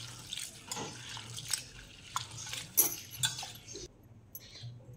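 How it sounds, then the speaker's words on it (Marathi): Soaked lentils for dal being washed in a pot of water, with soft splashing, swishing and dripping sounds in irregular bursts, close and fairly quiet. "मी आता ही डाळ 2-3 पाण्याने चांगली धुवून घेतली"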